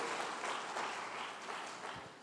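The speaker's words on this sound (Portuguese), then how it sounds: "Então dê as palmas para ele, bem alto" A church congregation claps loudly for the pastor during a Portuguese sermon, a short, dense wash of many hands that fades slightly toward the end, heard alone without speech.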